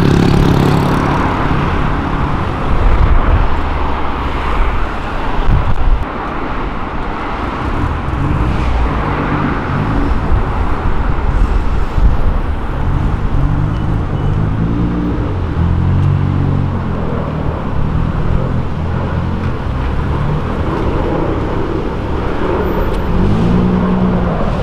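A Chevrolet Opala revs hard and accelerates, its engine a loud, continuous rumble filling the whole stretch with no talk over it.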